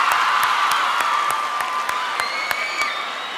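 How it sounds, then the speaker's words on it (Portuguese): Concert crowd clapping and cheering at a live show, steady broad applause with sharp rhythmic percussive hits and a sustained tone ringing over it. "Uma salva de palmas pra vocês,"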